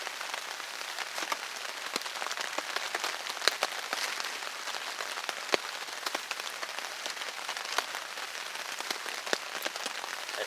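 Steady rain falls through winter woods, a dense even patter with scattered sharper drops hitting leaves and ground close by, no voices.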